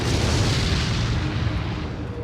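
Incendiary grenades going off in a video game make a loud, dense, low roaring blast that holds steady throughout and fades only slightly toward the end.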